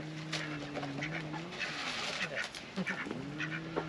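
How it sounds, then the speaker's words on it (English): Two ducks quack repeatedly as they paddle closer on the water at a caravan site, their calls fairly near and clear in a string of nasal honks across the whole stretch. "The ducks' names are Shrek and Fiona. They're coming over"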